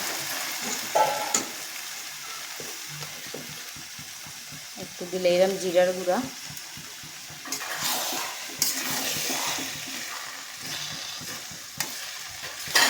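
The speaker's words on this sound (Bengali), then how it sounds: "সোয়াবিন আর আলু ভাজা বসাইছি একটু কম তেল দিয়ে" Soybean chunks and potato pieces fry in a small amount of oil, giving a close, continuous sizzle with occasional stirring scrapes while a person talks over it.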